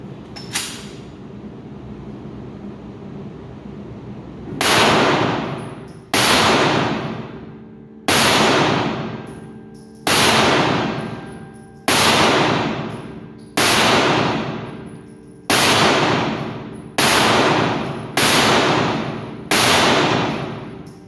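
Pistol shots from a Canik Mete striking steel targets: about ten sharp, loud reports spaced roughly every one and a half to two seconds, each followed by a ringing decay, after a quiet start.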